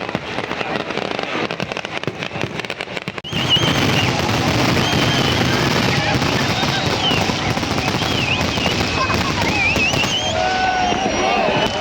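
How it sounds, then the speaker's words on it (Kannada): Firecrackers burst at a temple fair's grand boat festival on the water. Rapid crackling strings of loud pops come first, then a denser, louder barrage that runs on with crowd noise beneath it. "ಪಟಾಕಿ"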